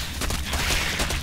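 StarCraft II units firing on destructible rocks, a dense rapid crackle of weapon fire and impacts that stays steady and loud throughout with no voices.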